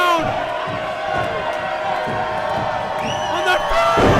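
A wrestling arena crowd on its feet roars and cheers in a dense, sustained wall of noise, with whoops and shouts rising near the end while a commentator's voice carries over it.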